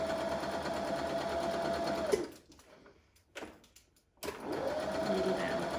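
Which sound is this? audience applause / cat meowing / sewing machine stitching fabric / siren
sewing machine stitching fabric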